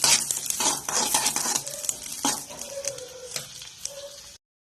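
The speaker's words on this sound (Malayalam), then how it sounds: "നമുക്കിതിലേക്ക് അണ്ടിപ്പരിപ്പ് മുന്തിരി നെയ്യിൽ വറുത്തിടാം" Cashews and raisins fry in hot ghee for semiya payasam, a soft sizzle broken by several sharp clinks and scrapes of a spoon stirring against the pan, close up and without talk.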